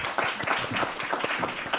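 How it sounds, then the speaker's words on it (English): An audience applauds for Marjolein at a talk, a dense burst of many hands clapping, close and steady for a couple of seconds. "Can I have a big round of applause for Marjolein?"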